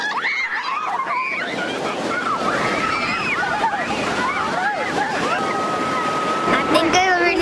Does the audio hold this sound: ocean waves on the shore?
yes